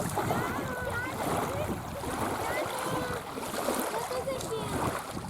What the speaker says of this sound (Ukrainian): А це прибой. Хвилі, об берег б'ються і твориться піння.